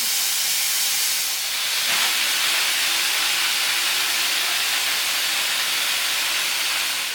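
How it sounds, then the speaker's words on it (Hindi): A pressure cooker of black masoor dal vents steam in a loud, steady hiss that holds for several seconds without pause, close by and alone with no talk. "भाप हम निकाल देंगे इसको।"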